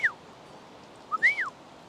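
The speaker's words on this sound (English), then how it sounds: "Don't know why I'm whistling" Short whistled notes from a person in the woods at night on a camping trip: one brief rising-falling whistle, then a quick cluster of three sliding whistles a second later, faint over a quiet background.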